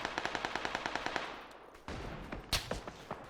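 Close, loud automatic gunfire from the PUBG battle royale game rattles in an even rapid burst of about a dozen shots, then gives way to scattered distant shots and impacts.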